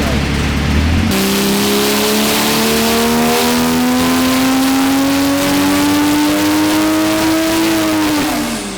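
Tuned Toyota A90 Supra, boosted to 29 psi, revving on a power run: the engine note climbs steadily in pitch for several seconds, loud and close, then drops sharply as the throttle lifts near the end.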